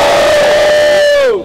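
A battle rap audience roars for Leão, one loud sustained crowd shout that holds steady, then dips and fades out at the end, close and dense.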